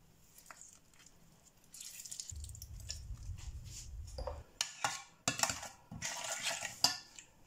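A spoon stirs a chicken powder seasoning mixture with water and lemon juice in a bowl, giving intermittent close clinks and scrapes that grow busier toward the end, with no voices.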